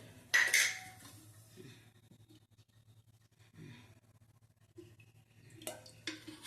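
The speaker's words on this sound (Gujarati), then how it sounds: "હવે આપણે એની ઉપર કઢાઈ મૂકીશું। જાડી લેવાની છે।" A heavy kadhai is set down on the stove for Gujarati cabbage sabzi, giving one sharp, close metallic clank near the start, followed by a few quieter clinks and knocks against a low hum.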